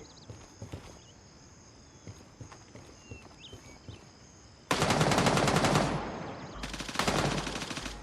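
Gunfire in the tactical shooter game Gray Zone Warfare: after several quiet seconds of low ambience, two loud, close bursts of rapid automatic fire crackle out, the second following a brief pause.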